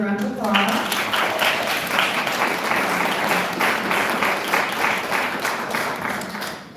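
Sustained audience applause at a conference, a dense steady wash of clapping filling the room from start to finish with no pause, loud and evenly sustained throughout.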